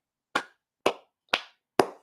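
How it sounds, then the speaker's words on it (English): Four separate hand claps spaced about half a second apart, each a sharp broadband snap, close and clear with silence between, from an audience told to clap along during a sermon. "Everybody clap your hands."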